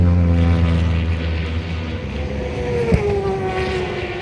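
Loud, deep motorbike engines at the North West 200 road races roar past with a droning, propeller-like hum, their pitch sliding downward as one passes close by.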